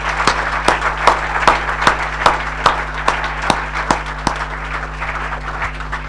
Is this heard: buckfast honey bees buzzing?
no